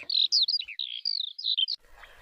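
A lively, unbroken warble of high skylark song, rapid twittering phrases pouring out close and clear before stopping abruptly.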